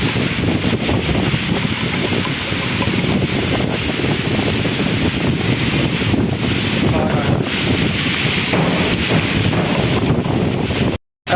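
Strong wind roars with rain in a Punjab village in Pakistan during the monsoon season, a loud, unbroken rush buffeting the microphone, cutting off abruptly at the end.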